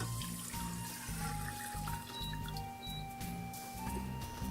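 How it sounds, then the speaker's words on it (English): Water poured into a pot of basmati rice, with a steady trickling, splashing flow over a low rhythmic kitchen hum, continuing throughout. "Adding the water."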